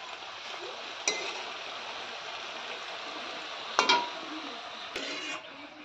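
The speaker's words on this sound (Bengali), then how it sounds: "আর এখানে যে ঢেঁকি শাকের ভাজা হচ্ছে।" Dhenki shak greens fry quietly in a pan with a low, continuous sizzle, punctuated by a few sharp metallic clinks of a spoon or spatula against the vessel.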